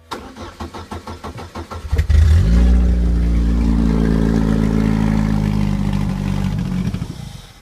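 A Pontiac Sunfire engine cranks with rapid rhythmic pulses for about two seconds, catches with a burst, then settles into a loud, steady running drone that fades slightly at the end.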